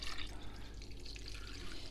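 Water poured from a container into a crock pot while making ribs and beans, a steady close liquid splash and trickle running the whole short stretch at moderate level.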